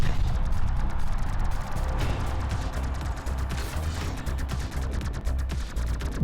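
Sustained rapid gunfire in the early-access arena shooter Exphelius: Arena. Dense automatic bursts sound close and loud, stay continuous throughout with no pauses, and carry heavy low-end impacts.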